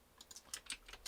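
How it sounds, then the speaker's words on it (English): Light, quick clicks of typing on a computer keyboard, faint and close, a handful of irregular keystrokes in a quiet room. "I'm going to type in"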